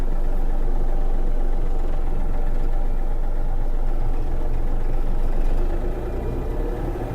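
A Yanmar AF-333 mini tractor engine runs steadily at close range from inside the cab, a low rumbling drone that holds even throughout and drops slightly in level near the end.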